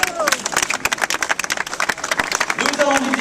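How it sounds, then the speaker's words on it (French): Crowd applauds at the opening ceremony of the Pau exhibition fair, a burst of individual claps rising and falling over a few seconds, with voices and chatter mixed in. "et les applaudissements, s'il vous plaît"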